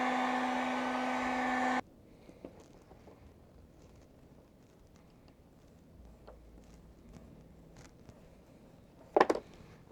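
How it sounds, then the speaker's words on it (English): A heat gun blows steadily and loudly with a whining hum for about two seconds while warming a Jeep Grand Cherokee emblem, then cuts off, leaving quiet handling noises and one brief clatter near the end. "some fishing line and a heat gun. And honestly, it comes right off."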